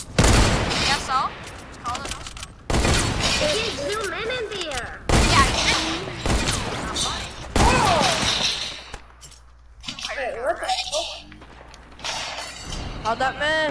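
Semi-automatic gunfire in a video game cracks in sharp, loud bursts mixed with shattering and crashing impacts, gaps between volleys, while people talk excitedly throughout.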